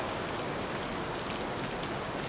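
Steady rain falls on a cool evening in the mountains of Hokkaido, a dense, even patter of drops hitting surfaces without pause and with no voices.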